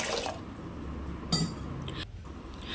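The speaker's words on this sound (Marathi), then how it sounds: "ह्या दोन्हीही डाळी आपण 2 ते 3 पाण्याने स्वच्छ अशा धुवून घ्यायच्या।" Toor and moong dal rinsed in water for a Marathi varan, with steady sloshing and light clinks of grains and vessel throughout, moderately close.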